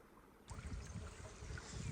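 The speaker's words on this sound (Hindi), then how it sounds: "पानी जो है वो काफ़ी आ रहा है इस साइड पे भी सब्ज़ी में" Irrigation water rushes steadily into a channel feeding a vegetable field in a village, a continuous close gurgling wash that starts abruptly after a half-second of quiet and carries on alone.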